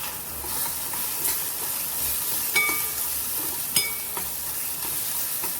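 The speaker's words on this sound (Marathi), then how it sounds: "छान असं दोन तीन मिनिटं आपण परतून घेऊया" Masala and turmeric sauté in oil in a pan for a raw jackfruit curry, with a steady, moderate sizzle and a few sharp clinks of a utensil stirring against the pan.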